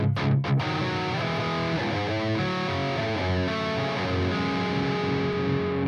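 A distorted electric guitar plays a melodic riff of sustained, bending notes with a few sharp picked attacks at the start, loud and alone.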